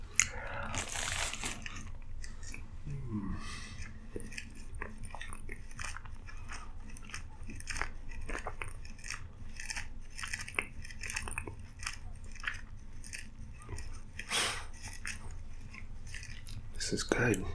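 Moist, close-miked chewing and crunching on Taco Bell food, steady soft bites and mouth sounds running throughout, with an occasional louder crackle of a wrapper or crisp shell.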